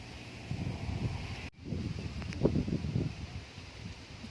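Steady wind buffets the microphone outdoors, a low rumbling rush with gusts swelling and easing, no voices.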